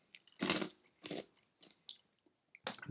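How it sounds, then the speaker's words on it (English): Crushed ice being chewed right at the mouth, a series of sharp crunchy bites with short gaps between them, close and isolated with no talking. "I'm chewing ice, sorry. Have this on crushed ice."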